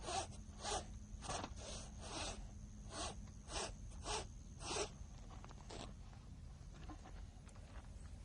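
Rasp working on a saddle tree, its smooth side drawn over a bevel in a series of short, evenly spaced rasping strokes, up close and faint, then trailing off.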